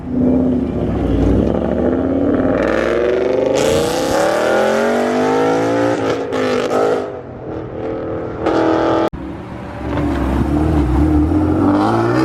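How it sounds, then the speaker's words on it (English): A Sheepy Racing twin-turbo Lamborghini Huracan accelerates hard, its engine note climbing steadily in pitch as it pulls away, loud and close with a brief dip and lift between shifts. "Here comes the Sheepy Racing Twin Turbo Huracan."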